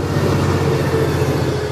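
A loud train rumbles past close by, a steady low engine drone with rhythmic wheel clatter and no voices.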